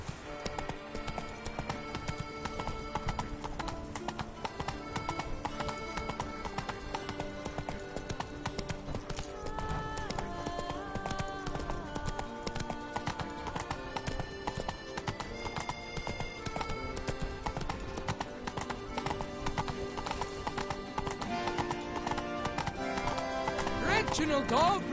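A horse gallops in the video game The Witcher 3, its rapid clip-clop hoofbeats running continuously and fairly loud, with a whinny and music-like tones layered in the game mix.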